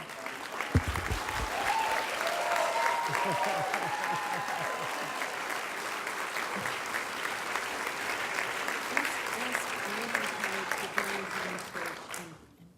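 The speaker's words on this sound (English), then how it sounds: "And now, after you applaud me," Sustained crowd applause at an outdoor climate action rally in Washington, loud and dense with some cheers and voices mixed in, tapering off toward the end.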